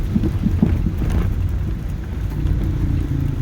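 Steady, close rain hiss with a low thunder rumble underneath during a typhoon, heard from a gas station on a stormy day, continuous throughout with no talking.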